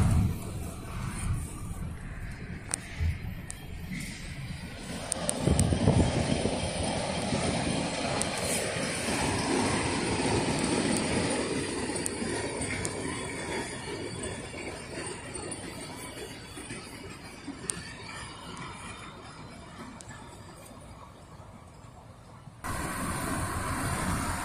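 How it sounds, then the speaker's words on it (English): The Puffing Billy Polar Express narrow-gauge steam train, an NGG16 locomotive, rolls past near Menzies Creek and Emerald stations in a rising and fading rumble of wheels and chuffing, fairly faint and distant, with brief clicks at the start. "Hey guys, look, it's the Polar Express train."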